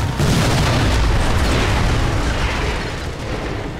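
A grenade goes off in Sniper Elite 4 with a loud, deep boom that rolls on as a rumbling roar and slowly tapers, with no voices over it.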